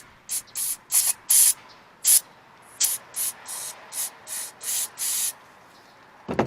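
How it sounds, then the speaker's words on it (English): Brake cleaner sprays onto a Kohler engine carburetor in short repeated hissing bursts, about ten quick aerosol blasts close by, ending with a brief clatter. "let's hit it again with some brake cleaner."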